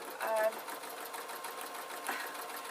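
Sewing machine stitching a suit pocket near taffeta runs with a fast, even mechanical whirr, quiet and steady, with a brief louder burst at the start and a voice talking over it.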